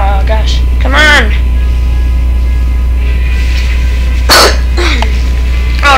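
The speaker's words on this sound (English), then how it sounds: "Oh, the hiccups." Repeated hiccups from a person playing Fortnite Battle Royale, heard as short, sharp vocal bursts close to the microphone over a steady low hum, with spoken talk between them.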